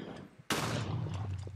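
The Spirit Binder Staff in Florcraft fires one loud, sharp shot after a quiet lead-in, and a dense crackling burst rings on and decays over the next second.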